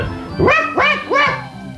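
A man imitates a dog with his voice, giving three quick, close barking yelps in a row during a game show.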